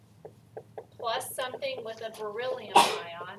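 A single sharp sneeze bursts out near the end, cutting into a teacher's spoken chemistry lesson on identifying ions in a classroom.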